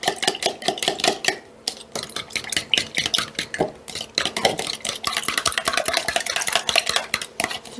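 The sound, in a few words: mixing egg yolks and milk in a bowl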